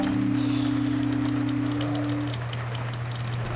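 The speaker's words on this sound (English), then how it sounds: "It's raining." Steady rain falling at night, a soft constant patter heard alongside a low continuous hum, with a fainter tone fading out partway through.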